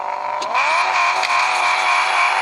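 A car engine in a racing video game revs hard during a drift, giving a loud, continuous whine that climbs in pitch and then holds high and steady, with no voices over it.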